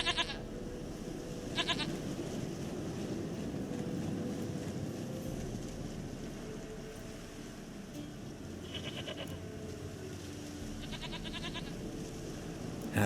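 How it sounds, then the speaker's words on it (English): A goat in the game Witcher 3: The Wild Hunt gives a few short, fairly distinct bleats spaced apart over a continuous rumbling ambient background. "Goat of mine, dearest, sweetest goat."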